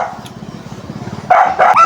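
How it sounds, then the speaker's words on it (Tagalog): A dog barks twice close by, in short loud bursts near the end, after a low rumbling background. "Ingay yung aso."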